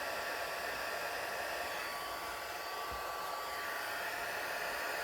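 A heat embossing tool blows hot air in a steady, even whoosh like a small hair dryer, running continuously and close for the whole stretch with no voices.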